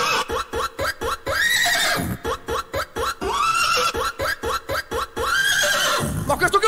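A horse whinnies in a rhythmic, chopped pattern of repeated neighs set to a steady beat in a music mix, loud and up front.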